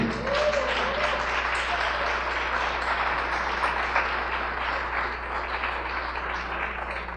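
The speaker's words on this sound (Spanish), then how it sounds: "Dale un aplauso al Rey." A church congregation applauds steadily and evenly throughout, a dense wash of clapping with a faint low hum beneath it.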